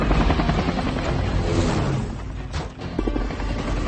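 A helicopter roars close by in an action-film scene, its heavy rotor and engine rumble loud and sustained, dipping briefly before surging again.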